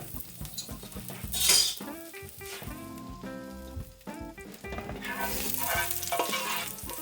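Roughly chopped garlic, six cloves, hits a pot still hot from searing shrimp, sizzling loudly and steadily while being stirred, with occasional scrapes of a utensil against the pot; nearby and without talk.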